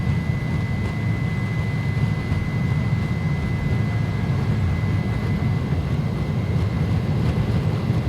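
Airbus A300-600R jet engines on takeoff roll in X-Plane 11, a steady heavy roar with a low rumble and a thin sustained whine above it, even and continuous throughout.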